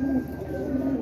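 A racing pigeon coos close by in a soft, low, repeated rolling call for about a second, with no talking over it.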